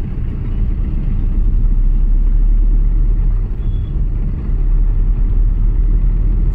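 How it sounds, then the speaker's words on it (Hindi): Steady road traffic in Kolkata rolls past as a loud, constant low rumble of engines and tyres that barely changes over several seconds, with no speech. "तो ये ट्रैफिक तो हर जगह मिलता है हम लोग को।"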